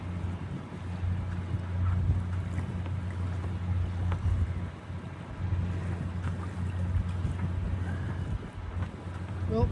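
Sailboat heading out of a harbor in shifting, gusty wind, with steady low wind rumble and water noise on the microphone throughout.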